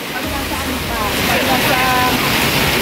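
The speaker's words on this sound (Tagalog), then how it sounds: "Buhos na ulan." Heavy downpour of rain outdoors near a boardwalk at Mandai Wildlife West, a steady, dense, loud hiss that fills the whole clip with faint voices underneath.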